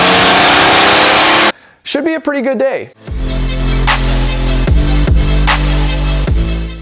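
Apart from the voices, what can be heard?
turbo diesel Mercedes straight-piped exhaust revving on dyno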